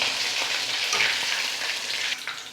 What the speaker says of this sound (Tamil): இப்போ எல்லா மீனும் வந்து இதே மாதிரி பொரிச்சு எடுத்துக்கலாம்.